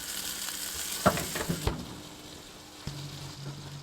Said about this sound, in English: I'm going to get some meatballs in. You can hear the sizzle straight off.